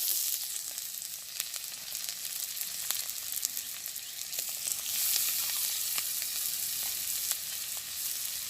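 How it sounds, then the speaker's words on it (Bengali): Onions fry in hot oil in a village kitchen, giving a steady, close sizzle and crackle with scattered pops and the occasional stir. "আগে দিয়ে দিচ্ছি তেল, দিয়ে দিচ্ছি পেঁয়াজ"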